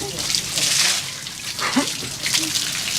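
Water runs from a tap in a steady, weak stream, splashing softly, while people talk over it.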